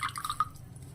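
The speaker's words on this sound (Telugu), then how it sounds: "స్లోగా పిండండి వాటర్ అనేది." Water dripping and trickling as fresh chhena curd is gently squeezed by hand to make rasgulla, a few soft, close drips over a quiet background.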